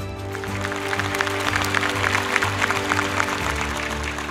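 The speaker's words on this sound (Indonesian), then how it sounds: "Tepuk tangan untuk mereka." A studio audience applauds the contestants of the Hafiz Indonesia 2025 show, crisp clapping heard under loud, sustained background music with no voices.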